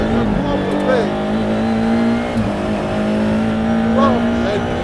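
A McLaren MC Extrema supercar, said to lap quicker than a GT3 car, holds a loud, steady engine note on a race track with a slight rise partway through, while someone talks over it.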